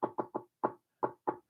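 Six sharp knocks on a door in an uneven rhythm, three quick raps, a pause, a single knock, then two more spaced out, close and clear in an otherwise silent room.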